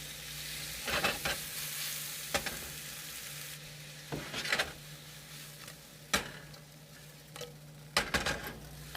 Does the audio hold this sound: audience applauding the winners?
no